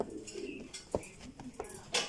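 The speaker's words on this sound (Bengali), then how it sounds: "এই যে কবুতর" A racer pigeon coos softly nearby, giving a few low, rolling calls mixed with faint rustles and brief chirps against a quiet background.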